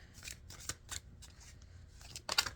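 A numbered deck of playing cards gets a brief, partial shuffle, with soft riffling flutters and light taps in quick, uneven bursts, faint and close with no speech.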